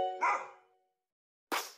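Two sharp dog barks ring out, the first louder with a short tail, the second arriving after a second of silence.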